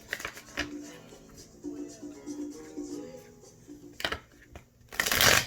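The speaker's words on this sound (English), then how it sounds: "That was an ugly shuffle." Tarot cards are shuffled up close in a few quick riffling bursts, with a brief rough flurry at the end and a voice speaking in between.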